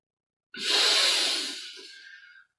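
A single long exhale during breathing meditation, soft and airy, swelling quickly and then fading over about two seconds, close and alone with no talk.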